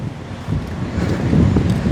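Gusty wind on a sandy beach near a fort, a loud, rough roar buffeting the microphone and building in strength over two seconds.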